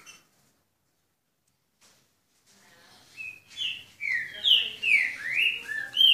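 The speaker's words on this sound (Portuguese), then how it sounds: "Casal de Passo Preto." A pair of Chopi blackbirds (passo-preto) in a breeding aviary sing in clear, whistled, rising phrases. The song starts after near silence and repeats several times, close and loud.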